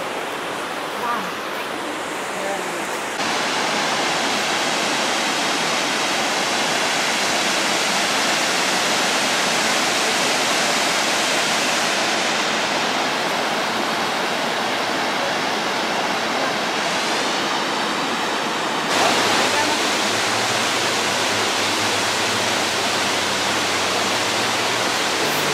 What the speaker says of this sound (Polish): A tam drugi wodospad.